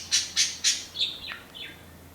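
A small budgie gives a quick run of chirps: three bright, evenly spaced calls followed by softer descending tweets, close and clear over a quiet background.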